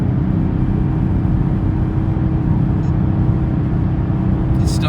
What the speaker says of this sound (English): It's still got that brute force feel of that big US engine. The supercharger is vicious.